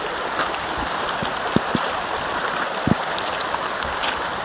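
Steady rain pours through a forest campsite in the Slovak Oravice area, with a continuous hiss and scattered heavier drops falling from the trees nearby.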